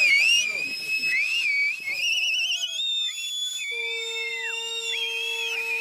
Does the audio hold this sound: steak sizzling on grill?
no